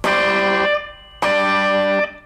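Two distorted electric guitar strums of a barre chord from a song intro, each ringing out briefly before the next, loud and close.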